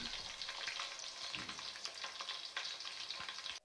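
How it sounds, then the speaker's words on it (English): Onion and tomato paste fry in red oil for jollof rice, giving a steady, close, dense sizzle with light stirring scrapes throughout and a sudden drop at the very end. "you stir the tomato paste with the onion so you can fry very well"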